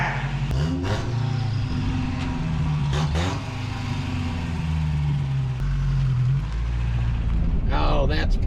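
A 1967 Toyota Stout pickup with a freshly reworked exhaust drives along, its mid-range engine note droning loud and close with revving swells and throttle changes throughout, some speech mixed in.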